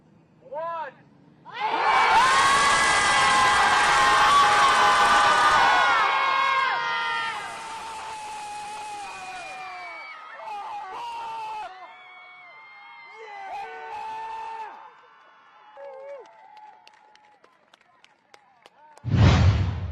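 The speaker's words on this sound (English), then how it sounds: "residents meet on Sunday evening to scream into Lake Michigan." A gathered crowd screams together into Lake Michigan at a Sunday evening Scream Club meetup, a loud sustained burst of many voices that fades into scattered shouts and calls, then a sudden thump near the end.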